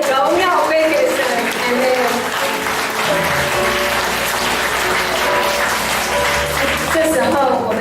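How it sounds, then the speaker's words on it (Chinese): Church congregation clapping at a pastor's reappointment thanksgiving service, loud sustained applause filling the room while voices and music carry over it. "现在的第2个拍掌，荣耀归给神"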